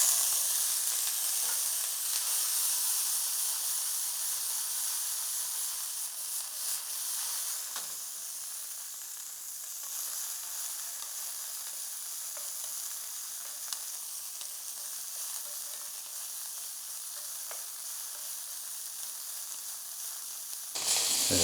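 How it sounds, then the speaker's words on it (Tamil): Cauliflower fries in a few spoonfuls of hot oil in a pan for a stir fry, giving a steady, fairly loud sizzle and hiss with faint stirring scrapes, no voices. "இப்போ இந்த காலிஃப்ளவரை ஃப்ரை பண்ணி எடுத்துக்குவோம்."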